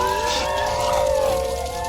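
Coyotes and wolves fighting in the audio game Survive the Wild: overlapping long, wavering howls and whining cries ring out loud and sustained over a low rumble.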